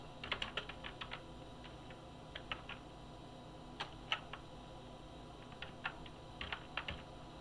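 Light, quiet keystrokes on a computer keyboard as subject names are typed into a Visual Basic form, coming in short scattered clusters with pauses between, close up with no talking.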